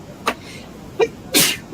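A person sneezes close by during a casual hobby chat about building toy bricks, with a brief nasal intake, a sharp explosive burst, then a smaller follow-up sound, alone without talk.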